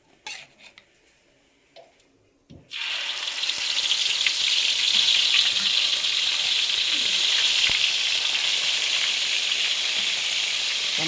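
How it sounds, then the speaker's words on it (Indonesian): Garlic, shallots and ginger drop into hot oil after a few quiet clinks of cookware, bursting into a loud, steady sizzle that fills the rest of the clip with no voices. "Pertama kita masukkan campuran bawang putih, bawang merah, jahe."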